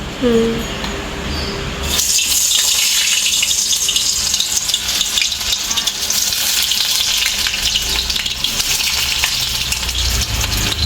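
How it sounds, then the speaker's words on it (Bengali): Fish fry pieces crackle and sizzle in hot oil in a home kitchen, a loud, dense frying hiss that swells suddenly and holds steady throughout. "ফিশ ফ্রাই ভাজা হবে, তো তেল গরম হয়ে গেছে অলরেডি।"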